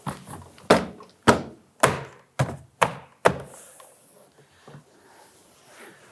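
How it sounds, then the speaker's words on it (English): Six sharp plastic thunks in quick succession as a 1999-2004 Jeep Grand Cherokee front door panel's plastic retaining clips are bumped into place, followed by a few softer taps. "we can work our way around the perimeter, bumping on our plastic retaining tabs"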